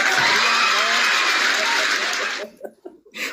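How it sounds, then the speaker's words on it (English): An audience claps for a man named John in a dense, loud wash of applause that holds steadily for about two seconds and then cuts off abruptly, leaving brief scattered sounds. "Clap for him. Clap for John."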